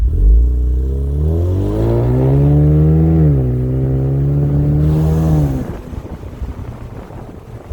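A 2020 Ford Mustang EcoBoost convertible pulls away hard, its engine note climbing through a rising rev, easing slightly, then surging again before dropping off into road and wind rumble.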